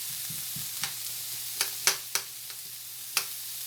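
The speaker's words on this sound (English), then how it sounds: "Now let these onions here sauteed, get caramelized real good" Onions sautéing in a pan, a quiet low sizzle broken by several sharp clicks and scrapes of stirring, close and fairly faint.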